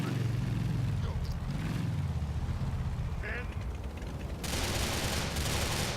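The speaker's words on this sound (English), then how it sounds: "all of a sudden my guys got off their bikes and started shooting at somebody" Gunfire from a gang shootout in GTA after bikers dismount, bursts of rapid shots over game noise, growing loud and sustained toward the end.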